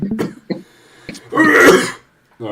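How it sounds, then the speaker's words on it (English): A single rough cough or throat-clearing burst from an adult, loud and close, set between short bits of nearby vocal noise. "that was like a 30-year-old cough"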